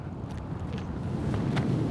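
Strong 15 to 20 mph headwind buffeting the microphone on a disc golf course, a steady low rumbling roar that swells slightly toward the end, with no talking over it.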